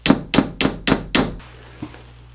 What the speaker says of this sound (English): I offered to put the nails back in the trim.